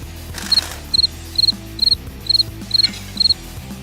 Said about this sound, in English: Damn crickets! I'm gonna have to take care of that.